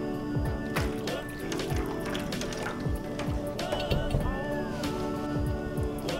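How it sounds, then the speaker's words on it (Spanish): Hot water poured into a deep oven pan to make a water bath for a cheesecake, a steady liquid splashing and trickling that continues throughout, close and moderately loud, with scattered drips. "y le vamos a poner agua caliente. Muy bien, como 2 centímetros de agua caliente está bien."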